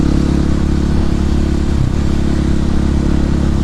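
A Husqvarna 701 motorcycle's single-cylinder engine runs loud and close on a cold day, a steady throbbing drone with rapid pulsing and a brief dip before settling back.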